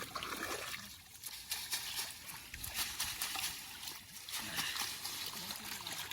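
A heavy fishing net sloshed and rinsed in water makes continuous splashing and trickling with irregular surges, close by and fairly loud, mixed with faint outdoor background.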